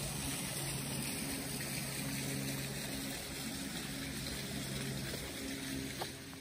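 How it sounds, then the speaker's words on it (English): A waterfall beside the trail on Pyramid Mountain near Boonton, New Jersey, sends out a steady, soft wash of flowing water with no break, and a low hum sits underneath it. "One last look at the waterfall before we hit the trail."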